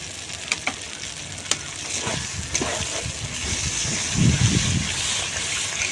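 Ground spice paste for katla fish curry sizzles in hot oil as water is poured in, a few sharp crackles giving way to a louder bubbling hiss, close and alone.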